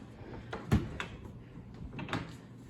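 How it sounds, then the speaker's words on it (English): Drawers in a resort ocean-view suite are pulled open, giving a few short wooden slides and knocks, one sharper thump among them, fairly close and quiet. "there's some drawers down here"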